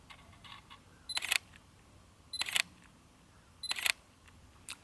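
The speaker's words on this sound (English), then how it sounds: "Let's have a listen to the new shutter sound." Three separate bursts of quick shutter clicks from a Sony Alpha A7R II mirrorless camera with electronic first curtain, evenly spaced, crisp and close against a quiet background.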